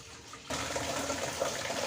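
Water gushing steadily from a small yellow water pump through a pipe at one metre of height, starting abruptly after a brief quiet moment and then running as a loud, continuous splashing rush.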